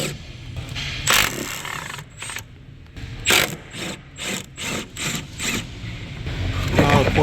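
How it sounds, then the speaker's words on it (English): An impact tool loosens the 15 mm bolts holding the rear shock mount on a 2016-2024 Chevy Malibu. It gives repeated short ratcheting bursts with brief pauses, fairly close and alone, ending in a longer buzz. "So now we're gonna remove those three bolts here that hold the mount in place."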